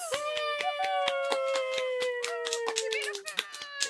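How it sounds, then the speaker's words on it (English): Podcast hosts give a short round of applause, a few pairs of hands clapping quickly and unevenly for about four seconds under a steady sustained tone, close and moderately loud. "Everyone, round of applause."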